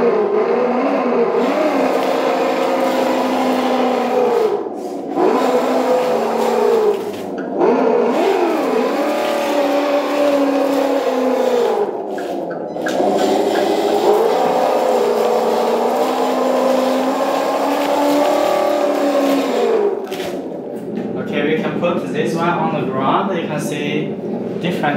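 A JDM-168 1/10 scale 4x4 AWD off-road RC crawler car with locked differential runs at low crawling speed, a loud continuous electric motor and gear whine that rises and falls in pitch, briefly cutting out a few times.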